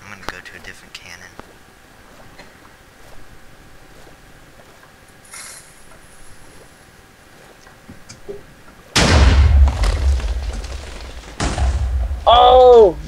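Cannon blasts in a Minecraft pirate battle royale, a sudden loud booming burst after a stretch of quiet, followed by another heavy blast, with speech around it.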